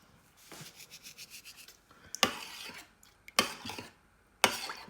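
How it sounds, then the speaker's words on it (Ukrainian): Spoon stirring bean soup in a pot, a soft rhythmic scraping series followed by several sharp clinks and knocks against the pot, fairly quiet with no talking. "перемішуємо"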